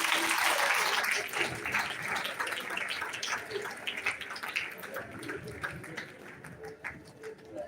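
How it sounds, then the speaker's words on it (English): An audience at a Chetan Business School Hubli event claps and cheers for friends being called up, the applause loud at first, then gradually thinning into scattered claps. "I request everyone to cheer your friends."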